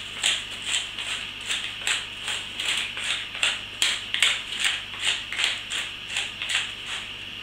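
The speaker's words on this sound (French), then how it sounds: "Je mets dessus quelques tours de moulin de poivre." A hand pepper mill grinds peppercorns over pork in a steady series of close, crunchy ratcheting twists, each turn a short gritty burst repeating at an even rhythm with no talk.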